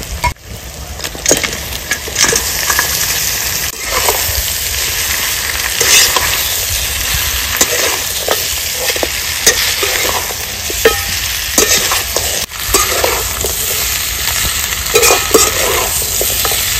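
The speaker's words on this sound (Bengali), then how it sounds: "এবার দিয়ে দেবো সেদ্ধ করে রাখা মাটনটা।" Boiled mutton tossed into a cooked-down spice masala in a pan for a village-style mutton curry, frying with a steady loud sizzle while a spoon stirs and scrapes throughout, no voices.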